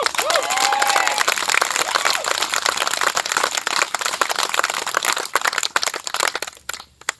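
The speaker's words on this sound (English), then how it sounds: "Can I get another round of applause, please?" Wedding guests clap and cheer in a sustained burst of applause, dense and lively at first, then tapering into scattered claps toward the end.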